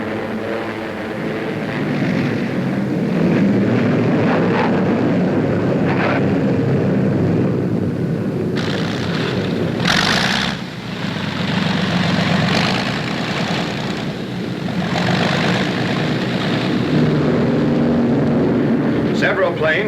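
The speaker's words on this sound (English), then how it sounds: "British planes return from the strike." Drone of WWII British aircraft engines returning to a carrier from a strike, a steady low engine rumble with occasional swells and bursts, under someone narrating.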